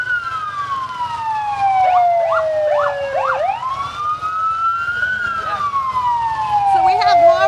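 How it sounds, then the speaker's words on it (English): Police and fire vehicle sirens wail at a Labor Day parade in Marlborough. They sweep up and down loudly and steadily, with a yelp-style pattern partway through, and low crowd noise sits underneath. "we're going to be competing with the sirens right now"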